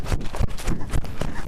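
A horse gallops with rapid, uneven hoof thuds in a driving rhythm, close and fairly loud, over a rough background.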